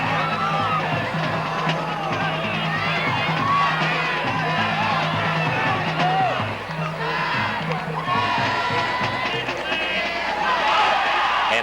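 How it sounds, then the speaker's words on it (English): Westlake High School cheerleaders cheer on a home crowd at a 1982 high school football game at Thousand Oaks High School, with a steady, loud roar of crowd voices and shouts filling the whole stretch. "the Westlake High School cheerleaders cheering on a Westlake High School home crowd here at Thousand Oaks High School"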